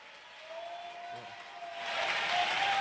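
A church congregation claps during a lively Spanish-language service. Applause builds and grows louder toward the end, under a voice speaking.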